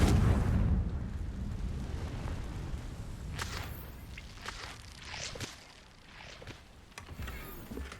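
The Confringo fire spell in Hogwarts Legacy bursts with a heavy, booming explosion at the start, then a rumbling tail with scattered crackles and smaller impacts, fairly close and loud, with no talk.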